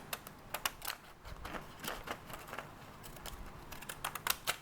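Pinking shears snipping around the edge of a paper photo, a run of quick crisp clicks and crunches spaced irregularly at close range, with no talking.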